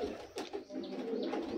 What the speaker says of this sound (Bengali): এই পায়রা বাইরে থেকে আনা, এটা ইম্পোর্টেড পায়রা